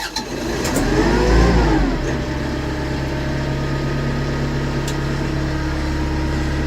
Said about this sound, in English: we can actually start up the engine.